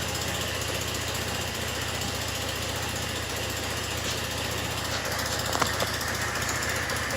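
A Chinese quad ATV engine idles steadily right after starting, a constant buzzy, rapid mechanical chatter close to the microphone, with no voices.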